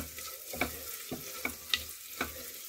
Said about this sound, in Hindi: तो गैस को हम अब थोड़ा सा मीडियम फ्लेम में कर देंगे और प्याज को भी हम भून लेंगे।